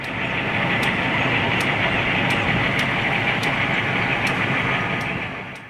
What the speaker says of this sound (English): we watch the train pass by on the main